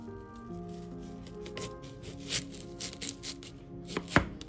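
A knife slicing through sweet onion for an air fryer blooming onion, producing a run of crisp, close chopping cuts that grow denser toward the end, with a faint tonal hum underneath.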